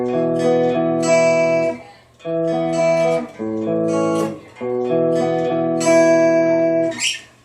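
Picked cigar box guitar chords played slowly, each chord ringing out in a steady arpeggiated pattern, with brief pauses between phrases; no talking.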